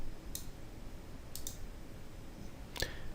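Three crisp computer mouse clicks, sharp and isolated, land at irregular moments over a quiet room hiss, the second a quick double click.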